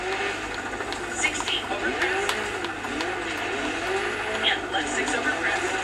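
A small 4x4 rally car in Dirt 4 runs with a steady engine drone whose pitch rises and falls through gear changes. It plays under continuous game sounds.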